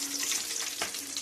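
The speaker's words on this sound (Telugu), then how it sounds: "ఆనియన్ పచ్చిమిర్చి కొంచెం ఫ్రై అయ్యాక" Onion and green chili frying in oil in a pan, a steady close hiss of sizzling with a brief stir partway through, no voices.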